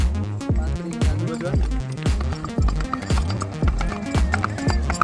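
A mare walking with a rider, her hooves clip-clopping in a steady, close, even rhythm throughout, with faint voices in the background.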